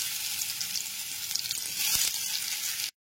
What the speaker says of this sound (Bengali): লো টু মিডিয়াম ফ্লেমে আলুগুলোকে ভেজে নেব।